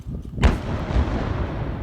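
A single sharp lightning-strike thunderclap booms close by, then rolls into a long, dense rumble that fills the rest of the moment without fading.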